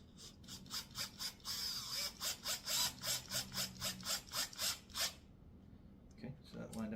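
A screw is driven into a wooden kids table during assembly, heard as a brisk run of close, rhythmic ratcheting clicks that stop before a few soft handling knocks.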